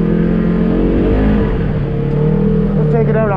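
Polaris RS1 side-by-side engine and drive clutches running steadily, a loud continuous motor drone with a whirring clutch layer throughout, with a person talking over it.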